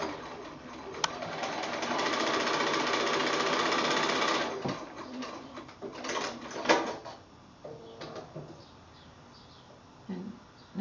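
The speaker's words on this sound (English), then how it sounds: "just sewing right on that drawn line" A sewing machine stitches a quilt block along a drawn line, a fast steady whirring run for several seconds that then stops, followed by quieter handling sounds and a few short bursts of stitching.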